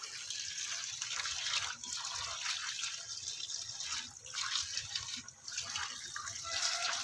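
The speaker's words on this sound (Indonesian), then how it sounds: "Kita siram lagi ya, kita siram sekali lagi agar kotorannya itu hanyut ya" Water poured over mini frogs to rinse dirt off them, a continuous splashing, trickling flow with small dips and surges, close and fairly quiet with no voices.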